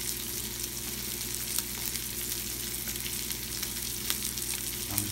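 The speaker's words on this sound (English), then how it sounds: "Now I'm going to attempt to flip this fish. I got my handy dandy fish spatula." A snapper fillet fries steadily in a pan with a continuous, even sizzle and crackle, and a few faint clicks as a fish spatula works under it; no speech.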